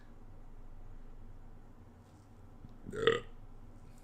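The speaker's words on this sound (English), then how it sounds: "You know you put some work in when you got a burp in the middle of talking." A single short, loud burp erupts about three seconds in, close to the mic, set against quiet low room noise with no talking.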